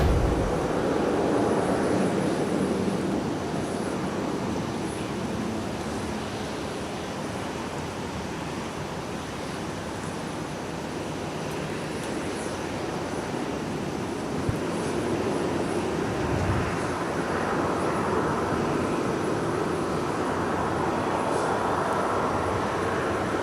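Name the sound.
Delta Airbus A350-900 aircraft at Minneapolis airport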